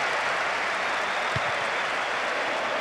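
A stadium crowd in the PES 2009 football video game roars in a steady, dense wash of cheering that holds at an even level throughout, with no speech over it.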